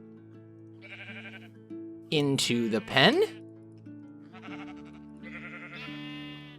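Sheep on a sheep farm in a video game bleat in quavering calls, several spread across the moment, with one loud close cry in the middle, while someone talks over them.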